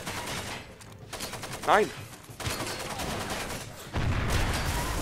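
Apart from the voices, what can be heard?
gunfire shooting at the player in the video game Far Cry 2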